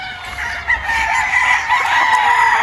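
A Gilmore gamefowl rooster crowing on a large farm, a single loud close crow held steadily for a couple of seconds, with other birds faintly audible behind it.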